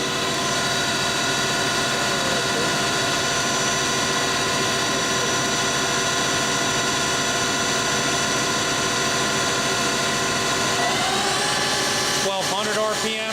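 Lucas 542B-84 five-axis CNC table-type horizontal boring mill with its spindle running at 1000 RPM, a steady loud mechanical whine with layered tonal hum held throughout, shifting pitch briefly near the end.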